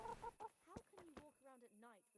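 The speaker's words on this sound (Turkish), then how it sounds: "Tavuk." Chicken clucking in the video game Kingdom Come: Deliverance, a series of close, loud clucks and squawks alone, rising in a broken run toward the end.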